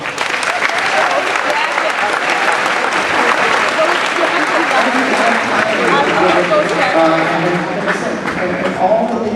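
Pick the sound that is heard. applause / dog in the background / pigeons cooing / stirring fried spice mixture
applause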